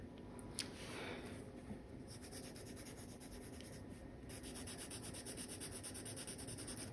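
A graphite pencil rubs back and forth on paper under heavy pressure, a steady close scratching that runs continuously and faintly throughout, with no talk over it.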